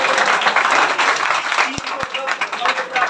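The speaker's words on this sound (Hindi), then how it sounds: "आकर्ष के लिए जोरदार ताली बजती है।" Audience applause for a student at a school toppers' award ceremony for the 2021-2022 session, a dense wash of clapping that holds steady for about three seconds with a couple of sharp knocks near the middle.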